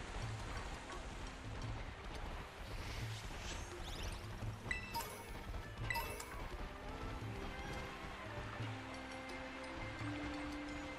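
Waterfall water rushes steadily in Pokémon Scarlet, a broad, moderate hiss and churn of falling water with occasional splashing crashes, while someone speaks over it.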